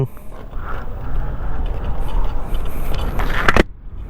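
A Hsem Wings electric motorcycle accelerates hard in mode one, its motor whine and rushing road and wind noise rising steadily and loud for a few seconds, then cutting off sharply near the end.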